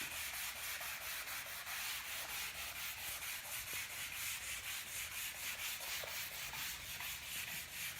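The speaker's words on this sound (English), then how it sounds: "I don't think I've been sanding for but like 1 minute." Sandpaper rubs rhythmically over the wooden finish of a front door in quick back-and-forth strokes, a close, steady scratchy hiss with no talking.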